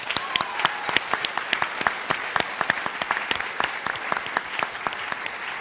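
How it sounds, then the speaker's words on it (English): At the Mamiya Theatre in Oahu, a theatre audience applauds during a 2015 speaking event. Many individual hand claps stand out sharply in a moderate, uneven round that holds steady throughout, with no voices over it. "if we could just give them a round of applause"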